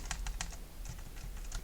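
Someone types a conda deactivate command on a computer keyboard: a quick, uneven run of close keystroke clicks over a low background hum, with no speech.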